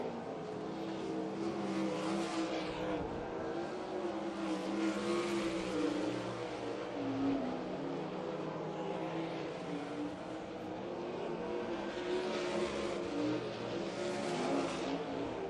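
360 sprint cars roar around a dirt oval during time trial qualifying in the Canadian sprint car series, a loud continuous engine drone swelling and fading as the cars pass, with no talk over it.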